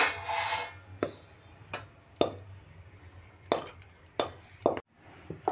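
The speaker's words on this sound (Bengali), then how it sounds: "এবার ডোটাকে আমি একটু পাত্রে ঢেলে নিচ্ছি।" Cooked rice-flour dough being scraped and tipped from a pan into a bowl, heard as a quiet run of separate knocks, scrapes and soft plops spaced about a second apart.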